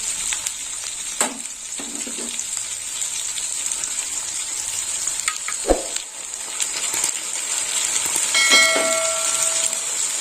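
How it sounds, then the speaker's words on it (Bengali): Okra frying with mustard paste, stirred with a spoon: a continuous bright sizzle runs throughout, broken by a few scraping knocks of the spoon against the pan, close and fairly loud with no talking. "সর্ষে বাটাটা একটু চামচ দিয়ে নেড়ে করে দেবো"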